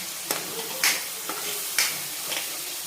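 A spoon stirs masala mixed with ground cashew-almond paste in a hot pan, steady sizzling and frying with a few sharp scraping strokes against the pan, close and alone without speech.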